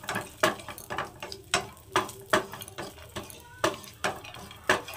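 Dry fruits fry in melted ghee in a pan while a spoon stirs them, making a steady rhythm of clinks and scrapes about every half second, close and moderately loud, with a faint sizzle beneath.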